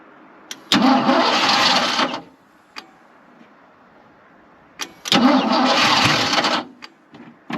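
A Ford F250 pickup engine cranks on a jump box in two separate attempts, each a loud grinding churn lasting over a second, separated by a quiet pause and clicks, without catching into a steady idle.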